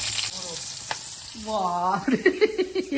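Nigella seeds and green chili hit hot oil, crackling at first, then a brief stirring scrape and a clear voice talking over the sputter near its end.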